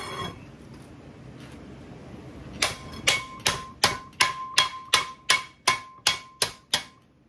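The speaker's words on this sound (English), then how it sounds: "So let's smack it a few times so it touches." A hammer strikes a metal car part near the brake rotor about a dozen times in a steady rhythm, each blow a sharp ringing clank, close and loud after a quieter start.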